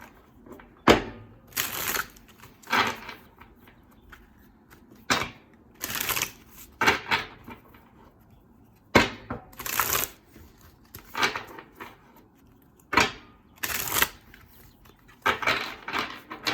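A deck of oracle cards is shuffled by hand in repeated riffling bursts, each a crisp flurry of papery flicks followed by short pauses, close and fairly quiet with no one talking.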